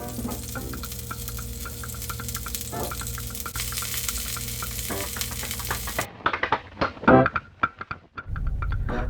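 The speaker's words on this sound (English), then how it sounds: "Cook pork belly well done first and put on the side." Pork belly frying on a Japanese electric hot plate set to medium high, a steady close sizzle that breaks off into clattering, scraping handling noises near the end.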